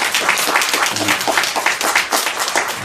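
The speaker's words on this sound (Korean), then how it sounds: "우리 큰 박수 한번 보내드립니다" Church congregation giving a round of applause during a service, a moderate burst of clapping with faint voices underneath, rising and dipping unevenly.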